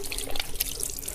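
Tap water runs and splashes steadily over forearms and elbows during ablution washing, a close, continuous trickle with small drips.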